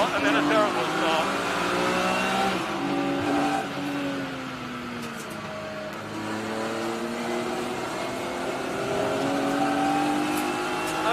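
Race cars pulling away from a standing start, engines revving hard with rising and falling pitch sweeps as several cars accelerate together, loud and continuous throughout.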